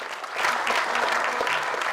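An audience at a commencement ceremony breaks into steady applause, a dense wash of many hands clapping at close range for a couple of seconds.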